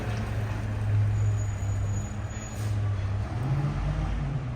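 A residential street garbage truck rolls by with a continuous low engine drone, fairly steady with a brief dip midway, heard moderately near and without speech.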